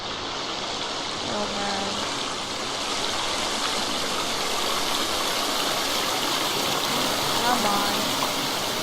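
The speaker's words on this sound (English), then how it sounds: "that sound of the waterfall is deafening" A loud waterfall in a forest roars as a constant broadband rush of water, with someone speaking briefly over it.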